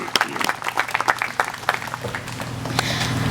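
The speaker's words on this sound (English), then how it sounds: "let's give a round of applause for Jen Vinge, for winner of Service to the Community" Crowd applause at an Australia Day community awards ceremony for the Service to the Community winner: a dense burst of many hands clapping at moderate distance that thins slightly, then swells into a steady wash.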